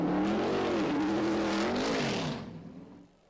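GT race cars such as the McLaren F1 GTR and Porsche 911 GT1 in the 1997 Zhuhai 3 Hours race: a loud engine howl wavers in pitch, then fades away as a car passes.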